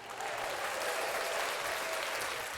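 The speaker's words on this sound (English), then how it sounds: "let's just give our shout outs and a round of applause." Steady applause from an audience during a Grammys 2025 recap, dense, continuous clapping held at an even level throughout, with no talk over it.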